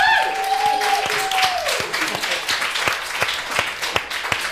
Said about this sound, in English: Do not applaud that pandering.